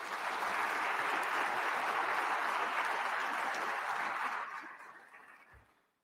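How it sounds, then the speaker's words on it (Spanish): Sustained applause from an audience at a public accountability session of a national registry agency, a broad even wash of clapping that holds steady, then fades away over the last second or so. "un gran aplauso."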